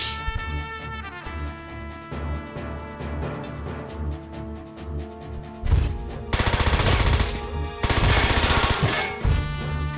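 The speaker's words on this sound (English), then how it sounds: "Once again, I'm using the weaker missile launcher." A missile launcher fires in the Front Mission 4 video game, Stage 19 on Madeira Island: loud bursts of rapid gunfire-like blasts over game music, growing denser and heavier toward the end.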